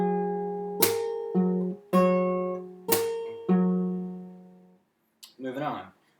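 A fingerstyle guitar pattern with percussive slaps on the low strings ringing together with an open high E, several sharp struck attacks that sustain and decay, followed by a short burst of speech near the end.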